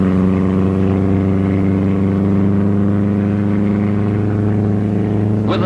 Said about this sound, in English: the steady and satisfying roar of the powerful 4-cylinder engine beats over the course